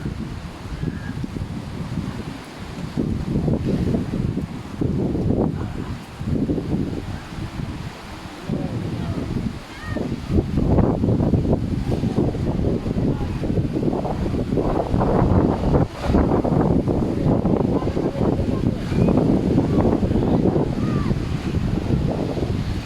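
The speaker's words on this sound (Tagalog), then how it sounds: "Ang lakas ng hangin" Strong wind buffets the microphone in heavy, uneven gusts at a beach resort in Agno, Pangasinan, roaring loudly throughout with a faint rustle beneath.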